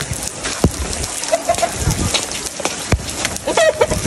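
Heavy rain pours down steadily during a very intense downpour, a loud continuous wash with scattered drip taps, while pigeons and chickens are nearby and distant voices occasionally break through.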